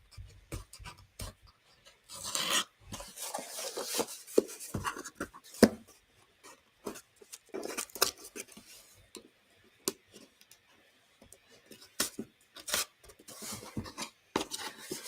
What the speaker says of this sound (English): I was hoping I would just be able to rip this tape off